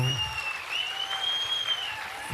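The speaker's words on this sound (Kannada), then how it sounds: "ಅವ್ರಿಗೊಂದು ಚಪ್ಪಾಳೆ ತಟ್ಟಬೋದು" An audience claps steadily for a couple of seconds while a high, sustained tone rings over the applause.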